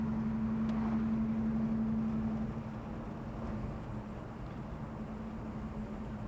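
A 1972 Chevrolet Chevelle engine idles with a low, steady rumble and a faint hum, continuous and even, with no voices.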